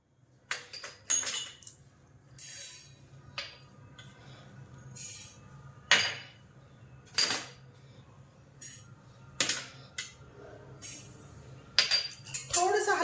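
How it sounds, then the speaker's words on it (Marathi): A spoon repeatedly clinks and scrapes against a pan while pickle spice masala is dry-roasted, sharp metallic knocks coming in irregular bursts over a quiet background. "आपण आता मसाला भाजून घ्यायचा आहे"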